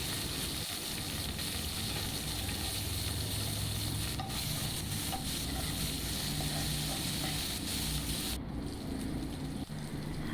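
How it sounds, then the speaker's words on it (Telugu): Onion, green chilies and curry leaves fry in hot oil for a cucumber-tomato gravy curry, producing a continuous dense sizzle and crackle that stays close and steady throughout, with faint stirring and no voices. "ఉల్లిపాయ, పచ్చిమిరపకాయ, కరివేపాకు వేసుకొని ఫ్రై చేసుకోండి."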